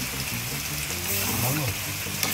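Food frying in oil with chili peppers just added, a steady sizzle running throughout, close and moderately loud, with voices talking over it.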